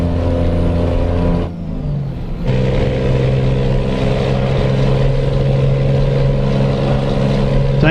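Heavy truck engine in Euro Truck Simulator 2 or American Truck Simulator with an 18-speed gearbox, loud and steady with a brief dip as a gear is shifted, then the revs climb and hold in a droning hum.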